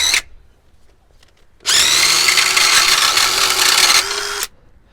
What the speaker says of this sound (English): I've got an impact and I've just let the impact loose on it, spinning it over until it breaks the rust free